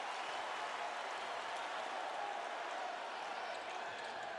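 A basketball arena crowd at a Colombia versus USA FIBA World Cup qualifier applauds and cheers in a steady, distant wash of noise that holds throughout.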